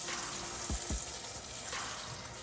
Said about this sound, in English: We're gonna add some butter. Let that get nice and melty